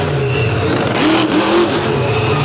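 The Virginia Giant monster truck, built in 2009, roars on an oceanfront beach at a monster truck show, its engine revving up and down in loud, rising surges with a continuous rumbling drone underneath.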